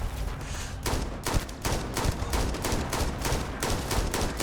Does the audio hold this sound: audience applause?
no